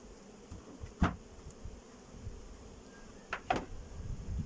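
Honey bees buzz faintly inside an opened two-queen beehive. The soft, low drone runs steadily with a few brief knocks and rustles over it, quiet and close.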